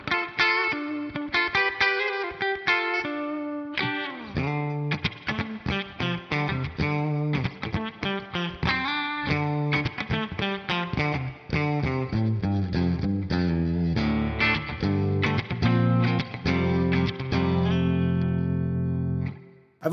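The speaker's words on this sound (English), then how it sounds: "I'm using the JC120 amp with a touch of spring reverb and a compressor up front." A clean electric guitar, a Squier through a JC120 amp with spring reverb and a compressor, plays a lively run of plucked notes and chords, bright and ringing with a light reverb tail. No voices.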